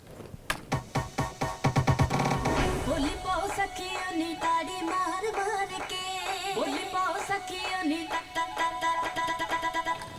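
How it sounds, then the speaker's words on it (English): Breathy alghoza double flute melody weaving over a busy rhythmic backing with plucked and percussive accents, in a dense, steadily moving musical mix. "It's a traditional instrument called algozi,"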